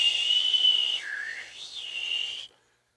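A whistle fitted on construction equipment at a worksite, sounding as a steady shrill tone that dips and rises in pitch for about two and a half seconds, then stops abruptly.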